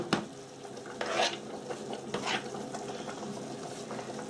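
Beef mince cooks in a pan, hissing and bubbling at low level, with a few scrapes and clinks as it is stirred and a sharp knock at the start. No one speaks.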